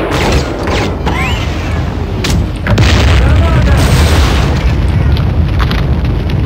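Grenade blasts from the video game Warhammer 40000: Fire Warrior, a few loud booming detonations with clattering mechanical game noise between them, ringing out under a dense, continuous battle din.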